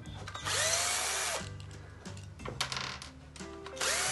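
A power tool unscrews a part of an adaptive headlight from a BMW X5 E70, whirring in several short bursts of a few seconds each, close and fairly loud with clicks and handling noise in the pauses.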